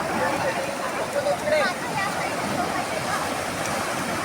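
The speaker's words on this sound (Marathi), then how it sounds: "लाट मोठी आली बघा मित्रांनो" Sea waves surging onto Kasheli beach on the Konkan coast: a loud, broad, continuous roar of surf with a swell in the middle, while a person talks over it.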